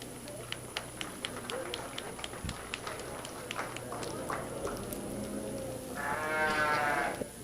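Sheep at a county fair livestock showmanship ring, with bleating under sparse ticking and clatter in the background, and a louder, nearer bleat toward the end.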